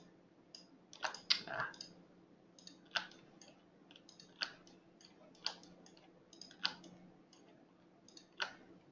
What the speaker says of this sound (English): I'm Control-Shift clicking